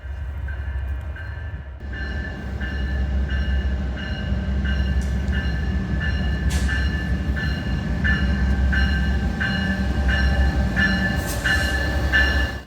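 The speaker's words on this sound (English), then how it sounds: "gigantic Sunset Limited coming from New Orleans, which also brought me here, and now heading out to Los Angeles" Amtrak Sunset Limited passenger train from New Orleans arriving at a station in Texas, a steady loud low rumble with rhythmic wheel clicks over rail joints and occasional squeals, continuous and close throughout.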